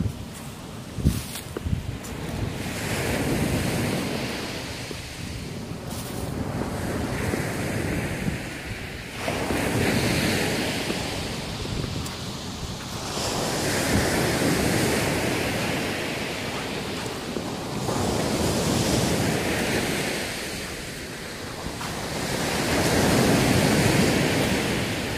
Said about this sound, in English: Christmas Day in Malaga, the beach.